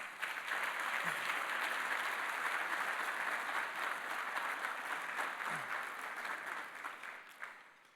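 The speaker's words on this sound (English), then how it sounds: "Please give him a round of applause." A crowd gives a sustained round of applause for Dr. Robert Gates, chairman and former Secretary of Defense, a thick, even wash of clapping that holds for several seconds before thinning and fading toward the end.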